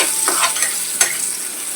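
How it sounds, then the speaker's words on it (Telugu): Sliced onions with salt frying in oil until brown, for a fish fry gravy: a brief, close, steady sizzle with a few stirring scrapes and one sharp knock, without speech. "ఇప్పుడు దీంట్లోనే ఉల్లిపాయ కోసుకుని బాగా బ్రౌన్ కలర్ వచ్చేదాకా వేపాలి"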